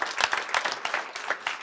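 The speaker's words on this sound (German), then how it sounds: "Ihr dürft von der Bühne, kriegt nochmal einen Applaus." Audience at the Jugend hackt München 2020 final presentation claps for a youth team leaving the stage, a brief, fairly close burst of uneven clapping with distinct individual hand strikes.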